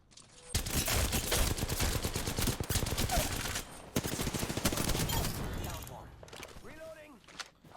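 A Havoc energy rifle fires in Apex Legends in long, rapid automatic bursts, loud and close, with brief pauses between strings of shots and a voice talking near the end.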